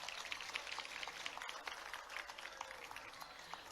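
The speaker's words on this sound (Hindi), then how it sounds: "जब पुरस्कार मिलता है तो तालियां बजनी चाहिए" An audience at an awards ceremony during an international trade fair in Delhi claps for the prize winners, a faint, distant patter of scattered applause that runs unbroken.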